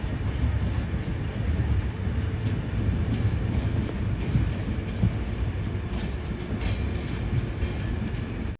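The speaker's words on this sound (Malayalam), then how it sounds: "മലപ്പുറം ജില്ലയിലെ തിരൂർ റെയിൽവേ സ്റ്റേഷനിലേക്ക് ഇതാ നമ്മുടെ ട്രെയിൻ എത്തിയിരിക്കുകയാണ്" A train pulls into Tirur railway station in Malappuram district, a steady loud rumble of wheels on rails with faint squeals, continuous and close, with no voices.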